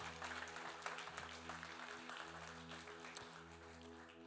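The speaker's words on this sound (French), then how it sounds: "On peut l'applaudir." A church congregation applauding during an Easter Sunday service, a steady wash of many hands clapping at moderate distance over a sustained low organ or keyboard chord, with no voices standing out.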